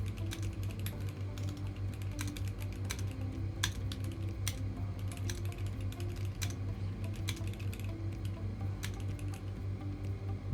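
A computer keyboard is typed on in quick, uneven bursts of crisp clicks over a low, steady electrical hum. No voices are heard.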